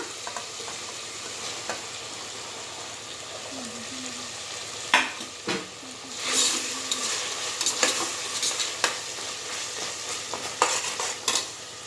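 Capsicum tossed into hot oil with ginger garlic paste, mint and coriander, with a steady low sizzle and clattering stirring scrapes that grow busier through the middle and end of the stretch, no voices.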